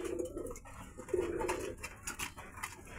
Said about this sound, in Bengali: দেখেন, ঘুঘু জোড়া আছে